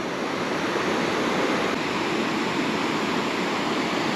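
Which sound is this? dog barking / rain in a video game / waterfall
waterfall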